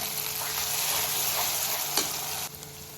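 Cumin and coriander powder sizzle in hot oil among frying spices for a soyabean curry, a steady close crackle with a single sharp stir clack near the end before it settles slightly quieter.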